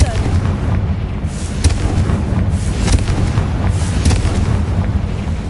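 A Confringo fire spell explodes in Hogwarts Legacy as loud, continuous booming blasts that rumble throughout, with a faint voice in the background.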